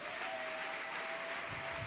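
A church congregation applauding and cheering for the Lord during a service, a dense, continuous wash of clapping and voices with a faint sustained tone running through it.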